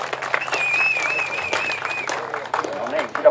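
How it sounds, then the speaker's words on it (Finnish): Outdoor crowd applause at a tractor pulling event in Rantasalmi, steady clapping from a gathered audience with a voice and whistle-like tones rising above it. "Ja aplodit kovaa pitää olla"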